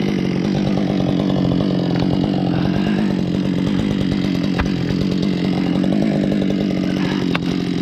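A chainsaw cuts through wood while a trail is cleared near gravel and a culvert. The engine roars loud and close, holding a steady, rough drone with brief bites and pauses in the cut. No voices are heard.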